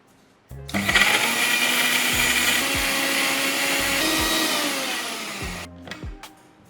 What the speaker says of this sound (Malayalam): നന്നായിട്ടൊന്ന് അരച്ചെടുക്കാം.